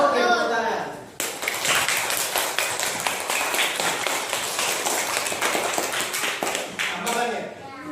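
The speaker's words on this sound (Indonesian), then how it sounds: "Oke, tepuk tangan." A class of students claps together in a classroom, a quick, rhythmic burst of many hands that runs for about six seconds, with voices speaking just before and after.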